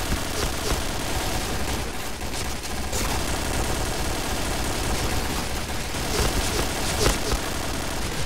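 Sustained bursts of automatic gunfire from the shooter video game Point Blank, dense and loud throughout, with faint voices mixed under the constant rattling shots.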